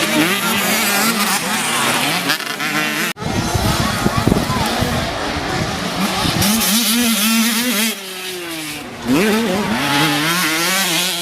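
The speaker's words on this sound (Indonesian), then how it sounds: "Motocross yang diadakan di sirkuit wisata Gunung Kelud." Motocross motorcycles race on the Gunung Kelud circuit, engines revving and buzzing loudly with rising and falling pitch as bikes pass, under an announcer's continuous commentary, with a short break partway through.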